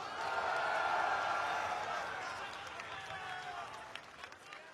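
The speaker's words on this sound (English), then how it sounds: "I want to hear the crowd reaction for none other than Monarch." An Evo fighting-game tournament crowd roars and claps for a player, a broad sustained swell that peaks early and slowly eases off, with a little announcer speech in the mix.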